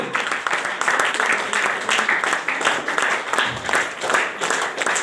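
A crowd at an honoring ceremony in Ambikapur claps steadily and loudly, producing a thick, continuous wash of applause that stays strong throughout.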